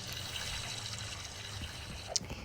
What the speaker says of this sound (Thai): ตอนนี้ก็ ใกล้มืดละเดี๋ยวเราไปอาบน้ำดีกว่า อาบน้ำอาบน้ำ